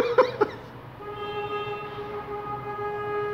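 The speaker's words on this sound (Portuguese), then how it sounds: "Para de buzinar quando a gente estiver gravando aqui." Motorcycle horn honking, two short sharp toots near the start, followed by a sustained tonal hum that lingers to the end.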